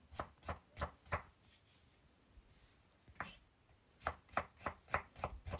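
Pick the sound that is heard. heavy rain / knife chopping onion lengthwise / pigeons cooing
knife chopping onion lengthwise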